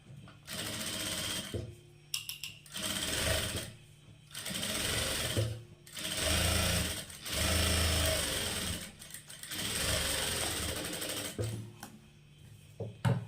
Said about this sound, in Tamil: இப்போ இது அப்படியே வச்சு ஒரு தையல் வந்து போட்டுக்கலாம்